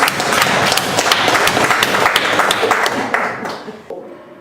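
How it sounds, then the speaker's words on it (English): An audience at the UGANAS head office in Nakawa breaks into a round of applause, dense overlapping claps for about three seconds that taper and die away near the end. "Give another clap."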